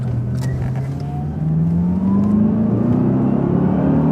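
A supercharged Cadillac CTS-V engine revs up and holds a rising, steady roar close by, with a whirring supercharger whine layered over the low rumble.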